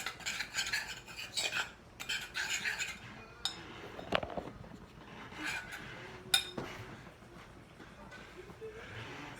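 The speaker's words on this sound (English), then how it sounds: "give that a little stir." A spoon stirs and scrapes in a pot of chicken and dumplings, with intermittent metallic clinks and taps against the pot, fairly soft, while a person talks.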